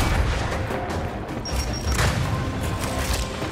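A frag grenade explodes in a shooter game during a Gunner Torquebow build match on Blooddrive, a loud boom buried in dense, continuous gunfire and battle noise.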